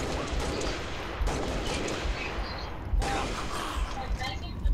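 Repeated gunfire from a weapon in the Halo: Reach video game, a dense continuous stream of shots with louder bursts, heard under a talking player's voice.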